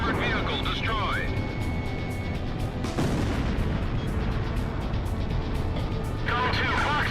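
Weapons fire and explosions in the Ace Combat Zero video game rumble loudly and continuously with booms, jet engine roar and faint radio voices mixed in.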